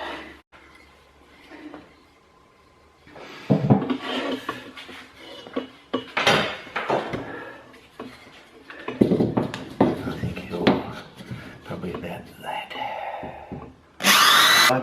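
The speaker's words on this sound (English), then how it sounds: "I'll get my electric drill out, turn it on" An electric drill whirs in short bursts while driving a screw to fix a piece in place, mixed with clattering handling noises and a loud final whine, close by.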